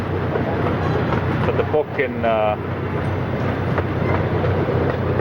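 An amusement park scenic train rolls along its track with a steady low rumble and rattle, joined by a brief whistle-like tone midway, while a person talks over it.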